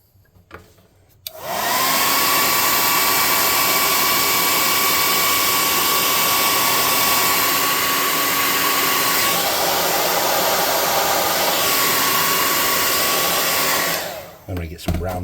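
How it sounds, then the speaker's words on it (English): Hot air gun drying paint on a homemade tabletop roleplaying game tent: a loud, steady blowing roar that switches on after a second, holds evenly for about thirteen seconds with a constant whine, then cuts off. "Hot air gun, dry it."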